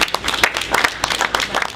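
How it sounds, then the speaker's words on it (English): Applause from an audience at a jazz venue ribbon-cutting ceremony in Harlem, a short burst of dense, close clapping with some voices mixed in. "Give them a round of applause now"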